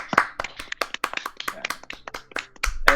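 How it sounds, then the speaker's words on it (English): Scattered clapping from an audience at an end-of-year live quiz event, irregular and fairly close, mixed with voices and brief bursts of talk. "So, applause."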